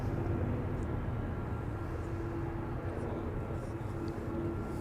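Steady rumbling roar of a 26-year-old Boeing 747-400 coming in to land on the center runway at Amsterdam Schiphol Airport, a constant broad jet drone heard from fairly near, with a voice talking over it.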